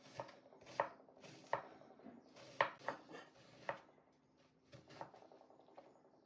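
Knife chopping a peeled apple into small cubes on a cutting board: a series of sharp, close taps in an uneven rhythm, louder strikes early, then softer, sparser cuts toward the end.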